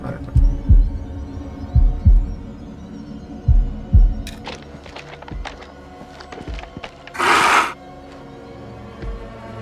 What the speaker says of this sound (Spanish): Que te escuches a los latidos.